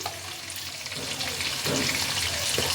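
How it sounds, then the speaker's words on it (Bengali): Diced potatoes with salt frying in a pan, a steady close sizzle with faint stirring scrapes throughout. "এবার সব দিয়ে আলুগুলোকে ভালোভাবে ভেজে নিতে হবে"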